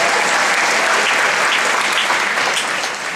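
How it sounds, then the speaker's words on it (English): Dense, steady applause from a large crowd at a high school graduation ceremony, filling the whole stretch loudly and evenly with no voices over it. "we can get a round of applause for that"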